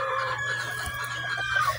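Chickens cluck and a rooster crows nearby in a brief, busy farmyard moment.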